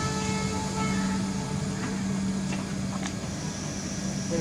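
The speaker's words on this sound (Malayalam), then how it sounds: "2 മണി എടുക്കുന്നതാ ട്രെയിൻ." A passing train gives a continuous rumbling roar with a steady low hum, a faint horn-like tone and scattered metallic clicks, moderately loud and steady throughout.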